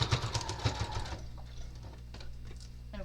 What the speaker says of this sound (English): And you're just going to sew a square